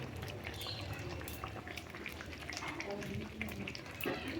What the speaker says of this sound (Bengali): এই যে মাছের ঝোলটা আমার ফুটে গেছে